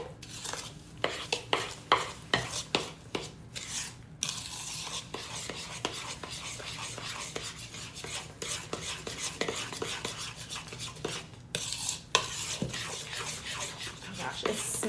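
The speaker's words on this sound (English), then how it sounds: "Now, you want to stir until everything is mixed up well, and I can show you as I stir here" Strawberry freezer jam mixture stirred in a bowl, with continuous close wet scraping and swishing plus occasional clicks of a utensil against the side, and a soft voice briefly heard near the start.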